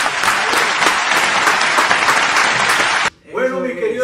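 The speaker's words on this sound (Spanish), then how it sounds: "Que para mí esto, gente, merece un aplauso." Audience applause for a salsa urbana artist during an interview, a dense steady burst of clapping lasting about three seconds before cutting off as a voice begins speaking.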